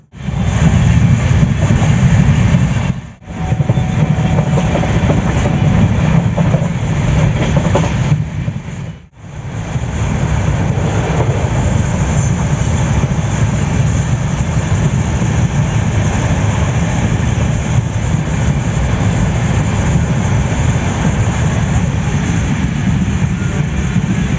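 Passenger train running from Aligarh to Delhi, heard from inside the carriage: a loud, steady rumble and rattle continues throughout, broken by two brief dips early on, with no voices.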